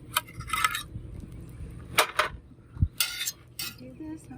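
Dishes and cutlery clink and clatter while crepes are plated in a kitchen, several sharp separate knocks and scrapes spread over a few seconds, fairly close.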